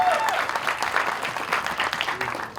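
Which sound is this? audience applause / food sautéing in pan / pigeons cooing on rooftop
audience applause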